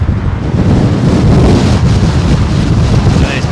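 Strong, gusty wind buffets the microphone at Heathrow Airport, a loud continuous roar and rumble that holds steady for several seconds, with no voices.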